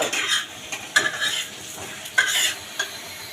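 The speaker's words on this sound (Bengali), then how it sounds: "লাল লাল করে ভাজছি, দেখছো?" Food fries in oil and butter in a pan, sizzling steadily while a utensil stirs and scrapes against it in short, repeated strokes, close by.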